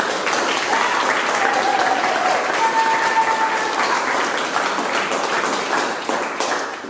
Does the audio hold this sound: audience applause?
yes